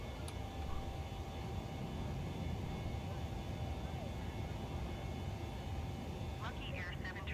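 An airliner in Microsoft Flight Simulator 2020 roars steadily with a broad engine rumble during takeoff and climb, a constant dense noise with a brief tonal chirp near the end.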